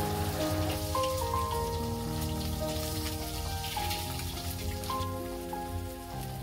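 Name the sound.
eggs frying in oil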